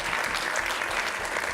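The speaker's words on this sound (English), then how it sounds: "Give him a round of applause," Crowd applause for a speaker at a motivational talk, a brief, steady wash of many hands clapping at moderate volume.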